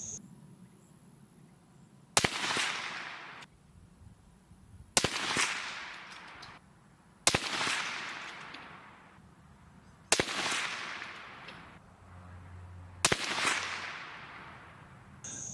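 Five suppressed shots from a 6.5 Creedmoor rifle with a Dead Air Primal suppressor firing 140 grain Hornady ELD rounds, each a sharp loud crack with a decaying tail, spaced evenly about every three seconds with quiet between.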